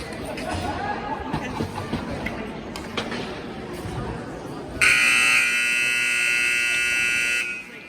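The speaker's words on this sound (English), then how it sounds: "Buzzer sounds." A loud, sustained electronic buzzer marking the end of a hockey period blares for a few seconds after crowd chatter and arena noise, then cuts off.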